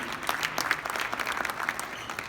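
Audience at an event honouring the National Action Network applauding its social justice work, a dense, steady round of clapping from a large crowd heard at moderate distance, alone without talk.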